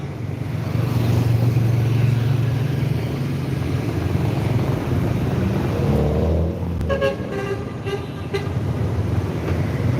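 A loaded truck carrying vegetables drives along a busy road in heavy holiday homecoming (mudik) traffic. A loud, continuous engine rumble blends with traffic noise, and brief horn-like tones sound near the end.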